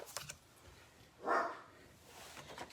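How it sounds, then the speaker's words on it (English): A dog gives a single short bark, fairly faint and slightly distant, in a quiet indoor room with no talking. "It was like he was barking in agreement."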